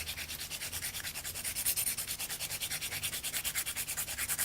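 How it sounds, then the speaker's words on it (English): A sanding pad rubbing a pencil point as the pencil spins, a soft, fast rhythmic scratching in quick even strokes, faint and steady throughout. "I just might take my sanding pad one last time."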